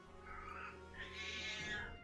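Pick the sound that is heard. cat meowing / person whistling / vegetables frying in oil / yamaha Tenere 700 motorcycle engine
cat meowing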